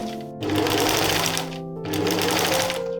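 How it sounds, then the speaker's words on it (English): A sewing machine stitches a straight seam over folded excess dress fabric, running in two steady bursts with a short pause between, close and fairly loud. "I just folded the excess fabric towards the right side and sewed over it in a straight line"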